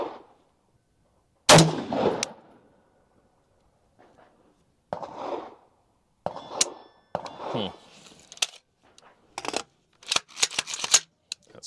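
Gunshots at an outdoor shooting range, a loud close report followed by several more sharp, scattered cracks and impacts at irregular intervals, with quiet gaps between them.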